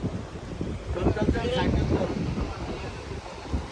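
Wind buffets the microphone over the wash of high sea waves at Ganpatipule, a loud rushing roar swelling and easing, with a faint voice under it.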